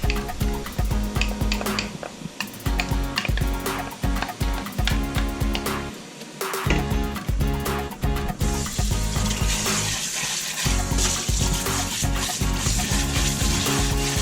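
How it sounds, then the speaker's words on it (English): Tap water runs steadily into a container coated with congealed olive oil as it is rinsed, with rubbing and splashing throughout. The flow is loud and close, and the spray brightens toward the end. "I rinse it off now."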